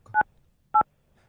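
Two short telephone keypad tones beep about half a second apart, clear and isolated against near silence.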